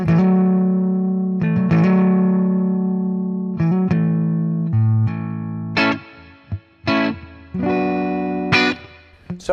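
A Squier Contemporary Jaguar HH electric guitar with its humbuckers in series plays a loud, slightly overdriven run of ringing chords and single notes. The strums let notes decay, then turn into choppy bursts with short gaps near the end.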